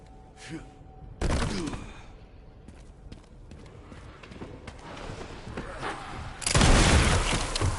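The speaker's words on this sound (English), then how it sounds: "I'm actually going to shoot my way out instead of using the mortar on the way down" Gunfire in the survival horror game Resident Evil Requiem on PS5: loud bursts of shots hit at about 1 s and again near 6.5 s, with busy game noise and action sounds in between.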